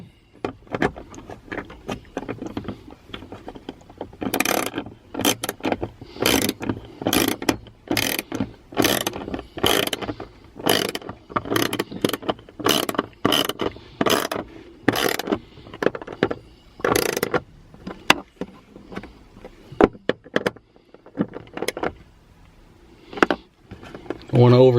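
A socket ratchet tightens the mount of a Rugged Ridge dash organizer and camera mount in a Jeep JK, giving a long run of rapid, close clicking strokes with brief pauses, while a person talks throughout.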